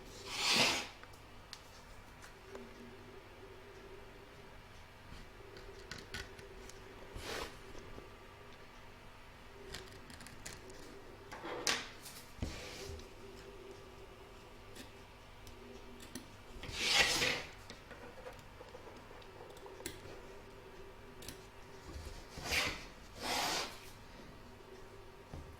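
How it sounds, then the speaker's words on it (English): Scissors snip through quilting fabric and batting, giving faint, close, occasional crunchy cuts spaced several seconds apart in a quiet room. "I need to cut through all the fabric and batting, but not the stabiliser."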